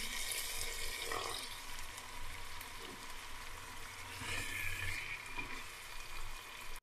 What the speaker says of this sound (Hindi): मसालों को चिकन के साथ अच्छी तरह भून लेंगे ताकि चिकन में अच्छी तरह शामिल हो जाए